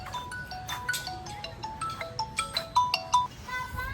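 Melodic phone ringtone for an incoming call plays outdoors near caged birds and turkeys, a bright repeating electronic tune of short stepped notes that grows louder toward the end, with no talking.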